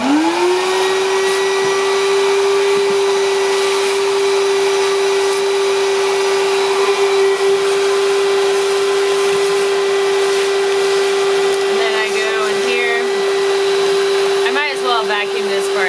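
A vacuum cleaner runs loud and steady with a sustained motor whine while cleaning out a part of an iRobot Roomba 880 robot vacuum, with brief rattling near the end.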